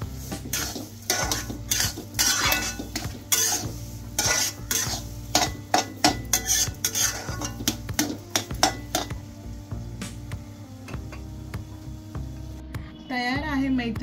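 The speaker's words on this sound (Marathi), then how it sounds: "तर साखर घातल्याच्या नंतर एक 5 मिनिटं रवा मिक्स करून घ्यायचा शिरा।" Semolina and sugar for date sheera are stirred in a pan with a metal spoon, giving repeated scraping clicks and knocks in an uneven rhythm over a low kitchen hum, with a brief voice near the end.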